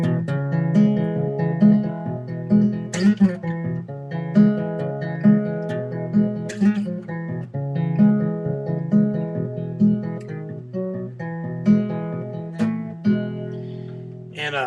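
Acoustic guitar strummed through the verse of a song in standard tuning, a steady rhythmic pattern of bright chords with regular accented strokes, close and clear with no voices.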